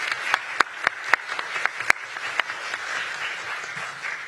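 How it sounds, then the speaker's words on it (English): Audience applause for a presenter introduced at a national ICT safety discourse competition final, a steady wash of clapping from a crowd with a few sharp louder claps standing out near the start. "let's give her a round of applause as well"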